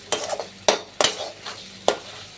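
Ground spices with salt, turmeric, chilli and coriander powder stirred and fried in a pan, a few sharp spoon scrapes and knocks over a low sizzle, close and with no talking.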